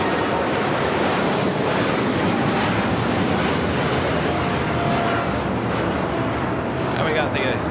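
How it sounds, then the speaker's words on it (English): Loud, continuous jet roar as a Nippon Cargo Airlines Boeing 747-8 freighter takes off at Los Angeles International Airport, a dense, sustained rumble filling the whole stretch, with a voice faintly present underneath. "That was Nippon Cargo Airlines 101 taking off to Tokyo Narita on the 747-8 freighter."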